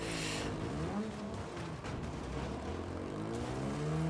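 A large pack of cars races in Wreckfest 2, a dense continuous roar of many engines with overlapping pitch sweeps, tire noise and scraping, loud and sustained without talk.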